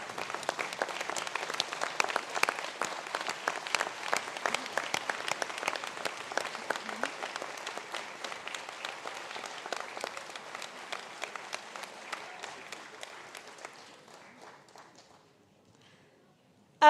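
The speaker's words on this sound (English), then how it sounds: "face your supporters, and maybe give them a round of applause if you wouldn't mind" Audience applause for graduates at an ATU Sligo conferring ceremony: a long, dense wash of clapping from a large crowd that holds steady for most of its length, then thins out and fades to near silence toward the end.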